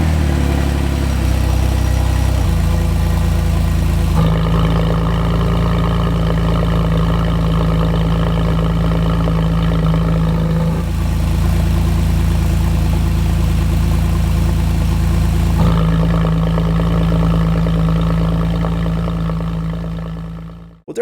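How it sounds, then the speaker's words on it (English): A Porsche 997/987 with a sport exhaust idles with a deep, loud burble, then rises into revs and settles back down several times before the engine shuts off at the end. "Let's go ahead and start the car and check out our new exhaust system."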